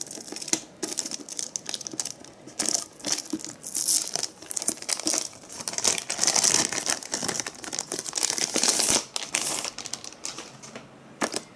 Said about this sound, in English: So let's remove the plastic.